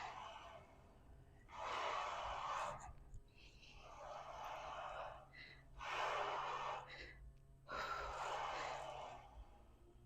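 Heavy, loud breathing from a woman during a glute workout on a Smith machine and cable station, with four long rasping exhale bursts repeating every couple of seconds, close to the mic with faint low hum beneath.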